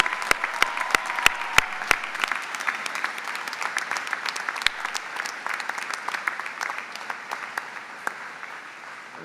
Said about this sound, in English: Please join me in giving them a rousing round of applause from the Colonial Nation.